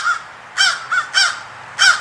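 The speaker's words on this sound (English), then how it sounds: "You hear them crows out there, man." Crows cawing outdoors: five loud, harsh caws in an uneven rhythm over two seconds, no one talking.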